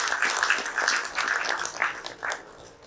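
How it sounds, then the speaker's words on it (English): An audience at a business awards ceremony applauds the award winners, a lively, uneven wash of many clapping hands with swells and dips throughout. "I think they all deserve a very, very big round of applause from all of us"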